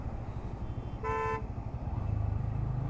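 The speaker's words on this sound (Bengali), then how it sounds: "এখানে এই বাসে হর্ন দিচ্ছে প্যাপা প্যাপা করে" A bus horn blares once on a highway at dusk, a bright sustained honk lasting about half a second over the low rumble of traffic and a passing engine.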